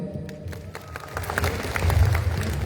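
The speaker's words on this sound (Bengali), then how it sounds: "জোর একটা করতালি হবে" A theatre audience at a Victory Day drama performance breaks into applause, a dense wash of clapping that swells louder toward the end.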